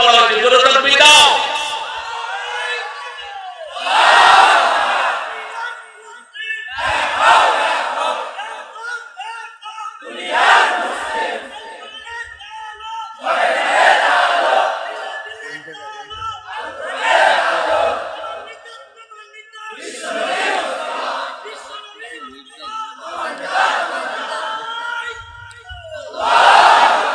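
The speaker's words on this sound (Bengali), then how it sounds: "এই তাকবীরের কথা বলা হয়েছে, জোরে তাকবীর দাও" A large crowd loudly chants takbir (Allahu Akbar) in repeated surging waves, each roaring shout rising and falling with brief pauses between, close and powerful.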